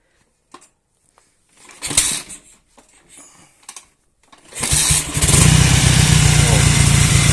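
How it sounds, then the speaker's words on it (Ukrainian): A motorcycle engine with freshly adjusted carburetors gives a few clicks and short cranking bursts, then catches and roars into a loud, steady high-revving idle that holds to the end. "карбюратори набралися бензином, включаємо запалення і пробуємо заводити що з цього вийде."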